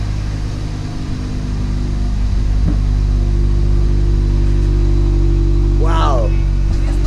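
A Scion xB idles steadily and quietly after a muffler swap, a low, even engine hum running throughout with a brief voice near the end.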